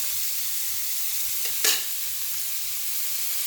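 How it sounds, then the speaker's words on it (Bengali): Onions and beef fry in oil for a Bangladeshi beef curry, giving a steady close sizzle with one brief scrape of stirring midway. "এই তেলের মধ্যে মাংস পেঁয়াজটা ভেজে নিব"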